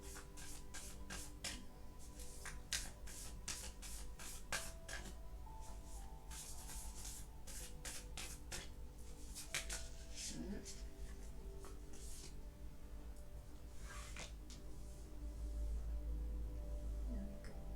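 Soft, repeated riffling and scraping of cards being shuffled, close by, running steadily with faint background noise.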